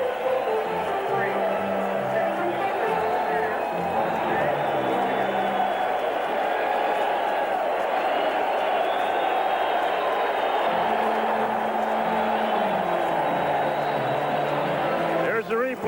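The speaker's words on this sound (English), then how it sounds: "Listen to this crowd." Baseball stadium crowd roaring in a sustained, loud wall of cheering after a grand slam home run at a 1985 Twins game against the Yankees, with a broadcaster talking over it.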